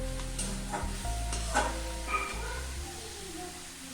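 Water goes into a pan of cooking kulekhara greens with a brief hissing splash, then a continuous sizzle and bubbling over a loud steady hum from the stove area, close by.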